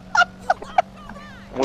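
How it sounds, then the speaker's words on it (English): Three short, honking bird calls sound in quick succession, fairly close, followed by a brief fainter warble in a quiet room. "Is that a bird?"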